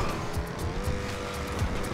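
A car slides sideways in GTA 5, its tires squealing in several short repeated bursts over a steady engine drone; the sound is close and moderately loud, with no talking.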